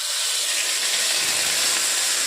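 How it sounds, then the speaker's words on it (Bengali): A ground spice paste of cumin, ginger and onion, without garlic, hits hot oil in a wok for jackfruit kofta curry. It makes a loud, continuous, close-up hissing sizzle that holds steady throughout, with no talk. "এই মশলাটা দেওয়ার সাথে সাথে না একটু দূরে সরে যাবে, কেন তেল ছিটবে।"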